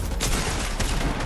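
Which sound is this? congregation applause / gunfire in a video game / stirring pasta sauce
gunfire in a video game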